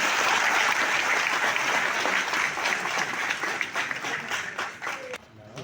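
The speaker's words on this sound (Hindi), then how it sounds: "एक बार फिर तालियां हो जाए" Sustained applause from an audience at an Aam Aadmi Party press conference in Tagore Hall, Srinagar, loud and dense throughout, thinning slightly near the end.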